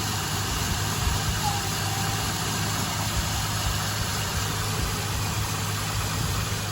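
A Ford Ranger XLT engine idling smoothly after a misfire repair, a steady low rumbling hum that holds an even level throughout, heard up close.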